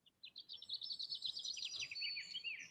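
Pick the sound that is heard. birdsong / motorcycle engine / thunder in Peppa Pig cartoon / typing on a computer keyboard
birdsong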